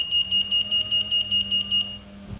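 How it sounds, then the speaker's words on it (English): A Kwikset SmartCode electronic door lock with low batteries gives a string of about nine quick, bright, evenly spaced beeps, close and clear, then stops. "you'll also hear it beep when you try to unlock the door"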